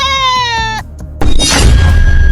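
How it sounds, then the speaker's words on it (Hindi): A goat shut inside a washing machine bleats in a long, loud, steady cry that breaks off and gives way to a harsh, noisy burst of sound. "मशीन के अंदर बकरा तो मैंने डाल दिया है।"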